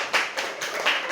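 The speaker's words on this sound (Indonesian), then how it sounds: "Tepuk tangan untuk kelompok 1." A classroom group claps for a team of students after their presentation, a short, brisk burst of hand claps in uneven waves, close and fairly loud with no speech.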